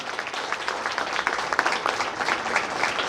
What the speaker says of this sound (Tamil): ஒரு பலத்த கைத்தட்டலோட ஆரம்பிச்சிருவோமா?